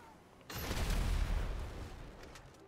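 Rockets fired at a Dewbauchee Champion car in GTA 5 Online set off a loud, booming blast at about half a second that rumbles on and slowly fades over the next two seconds, with no talk.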